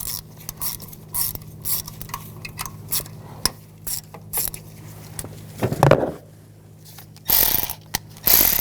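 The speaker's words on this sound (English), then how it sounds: "Using a 10mm socket, we want to take these bolts out for the coils." Ratchet wrench with a 10mm socket backing out ignition coil bolts on a 2014-2018 GMC Sierra 1500 5.3L V8, steady clicking bursts close up, with a louder clatter of parts and handling noise near the end.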